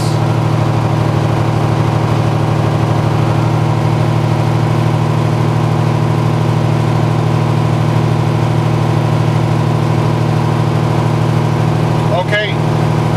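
A truck engine held at steady revs during an air compressor governor test, a loud constant low drone with a steady pitch and a brief rattle near the end.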